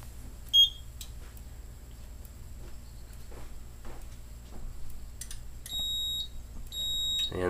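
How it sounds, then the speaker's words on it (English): A building fire alarm system with a 4010 panel going back into alarm after a test: faint ticking, a short chirp early on, then two sustained electronic beeps near the end over a low steady hum. "And this went back into alarm."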